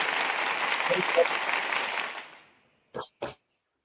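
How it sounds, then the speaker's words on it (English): A broad wash of sound fades out, then two sharp, close hand claps ring out one after another in near silence. "Let me just clap."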